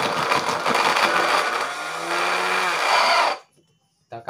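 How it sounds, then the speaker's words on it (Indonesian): Electric blender whirring steadily as it blends fruit for homemade liquid fertilizer, loud and close for about three seconds, its tone dropping slightly before cutting off abruptly into silence. "Langkah kedua, kita akan blender."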